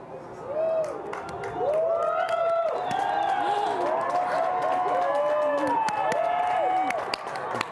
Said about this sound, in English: Everyone is cheering.